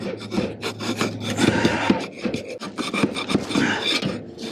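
Sandpaper rubbed over a metal gutter seam during a leak repair, with close, repeated scraping strokes in an uneven back-and-forth rhythm and no talking.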